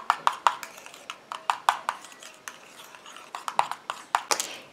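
Homemade monoï body lotion being stirred in a container gives a series of quick, close scraping and clinking strokes in an uneven rhythm, clear and alone.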